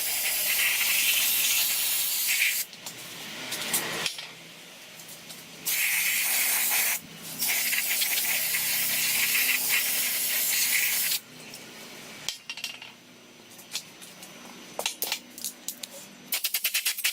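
Spray hisses against the parking brake system of a 2008 Ford Edge in bursts of a few seconds each, separated by short pauses, close and fairly loud.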